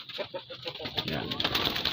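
Pigeons coo softly nearby in low, throaty repeated calls, with a light flutter of wings toward the end.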